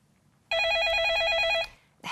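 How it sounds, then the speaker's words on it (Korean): A telephone rings for an incoming call during a broadcast phone-in show: a single bright warbling electronic ring about a second long, then a short burst of noise. "이번에는 전화가 들어와 있네요."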